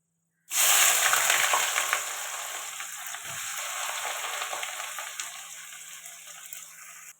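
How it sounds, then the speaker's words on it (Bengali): Whole garam masala and onion hit hot oil in a kadai with a sudden loud sizzle that settles into a steady, continuous frying hiss, close by with no voices. "তেল দিয়ে দিলাম কড়া গোটা গরম মশলা ফোড়ন দিয়ে দেবো পেঁয়াজ দিয়ে দেবো"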